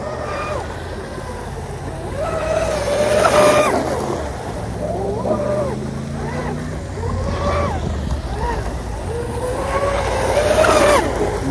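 A Proboat UL-19 RC boat fitted with a Castle Creations Hydra XLX2 controller and TP 4060 motor whines steadily across water during oval runs at wide-open throttle, rising and falling in pitch as it passes, with someone talking over it.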